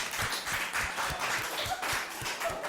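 Applause from an audience, a steady dense patter of many hands clapping throughout, moderately loud with no voices over it.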